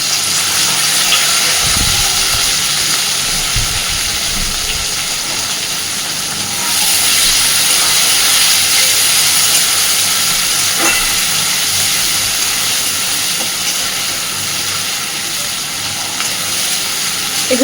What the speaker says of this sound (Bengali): এগুলোকে এবার হালকা করে একটু ভেজে নেব